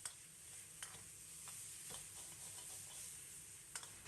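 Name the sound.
stir-frying pork and celery in a wok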